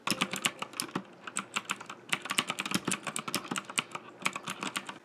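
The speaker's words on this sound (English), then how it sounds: "they are quite loud and they make a very twangy spring-like noise after every click" Loud, rapid clicking from a Hermes P1B mechanical keyboard, each keystroke a sharp click followed by a twangy, spring-like ring, typed in a continuous uneven stream close to the microphone.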